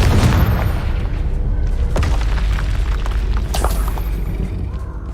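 A fiery blasting curse from the game Hogwarts Legacy erupts in a loud, deep boom, followed by a sustained rumbling roar and crackling debris throughout, very close and heavy.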